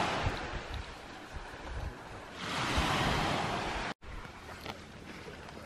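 Waves washing onto a small beach in a bay at Abel Tasman Park, a steady broadband surf wash that swells to a louder surge midway, with some wind buffeting and no talking.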